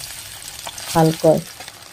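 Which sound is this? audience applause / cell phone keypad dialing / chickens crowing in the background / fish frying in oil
fish frying in oil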